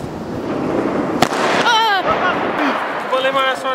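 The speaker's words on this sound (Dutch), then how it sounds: "we gaan even vuurwerk afsteken" Fireworks set off outdoors on New Year's Eve, a sharp bang and crackling bursts with whistling, rising tones, mixed in with people talking nearby.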